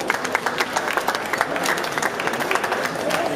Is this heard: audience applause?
yes